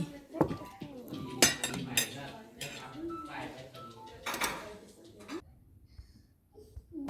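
Dishes, bowls and cutlery clink and clatter in a Thai temple kitchen as plates are washed and stacked, with scattered knocks and rattles over several seconds while people talk in the background.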